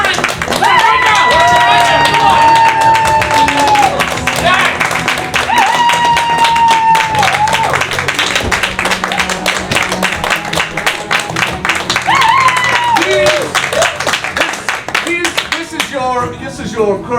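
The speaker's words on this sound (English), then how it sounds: "Please give them a round of applause when we bring them to the stage." An audience claps loudly and steadily as the cast of a theatre anniversary show comes onto the stage, with cheering and music mixed in and a voice talking over it.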